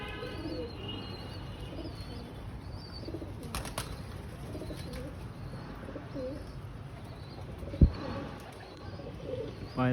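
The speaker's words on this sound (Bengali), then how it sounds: "তো পায়রা একটা একটা করে ছাড়া হচ্ছে।" Homing pigeons coo softly and chirp as they are released one by one, with brief bursts of wing flapping and a sharp knock near the end against a steady outdoor background.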